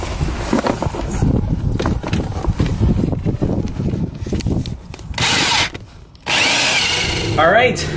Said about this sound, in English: We got the hole drilled in the two firewalls plus the plastic thing.